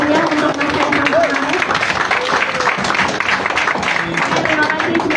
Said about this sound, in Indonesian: Tepuk tangan yang paling meriah untuk Mas Kaisang.